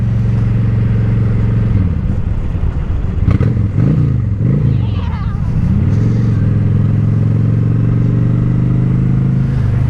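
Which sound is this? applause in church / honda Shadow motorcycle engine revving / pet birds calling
honda Shadow motorcycle engine revving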